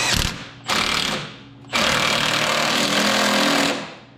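A mini impact wrench tightens an 18 mm factory bolt on a Duramax Bilstein steering stabilizer, firing in three loud close rattling hammer bursts: a short one, a second lasting about a second, then a longer sustained run.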